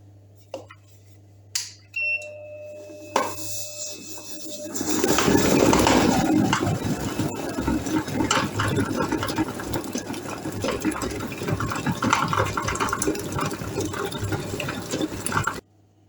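An electric mixer creams butter and sugar together, starting after a few seconds of light clatter and thumps, then whirring steadily and loudly until it stops at the end.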